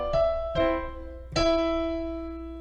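Solo piano playing the first ending of Burgmüller's Arabesque: three clear struck chords, two quick ones then a third after a pause, each ringing out and decaying into an unresolved sustained tone, close and alone.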